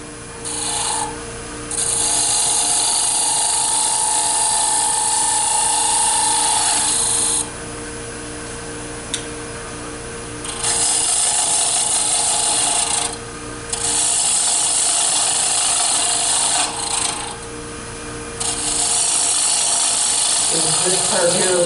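A spindle gouge cuts wood spinning on a lathe, making loud, sustained raspy shaving bursts close by. Short pauses separate the cuts, and a voice speaks during some of the gaps.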